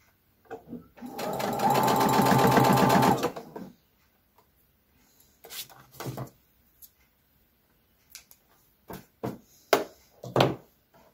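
A sewing machine stitches a baby bodysuit with an American-style envelope neckline, running in one loud steady burst of about two and a half seconds, followed by a few scattered soft clicks and handling knocks.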